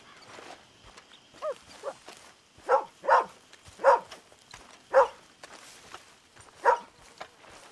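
Several sharp dog barks spaced irregularly over a low ambient bed with soft footsteps, in the Red Dead Redemption 2 video game; no one speaks.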